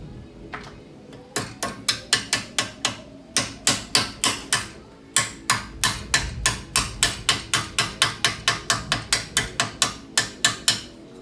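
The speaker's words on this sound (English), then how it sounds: "Hammer it in" A metal hammer strikes again and again in quick, steady bursts, loud and close, with a few short pauses between runs of blows, hammering a front brake pad part into place on a 1976 AMC Pacer.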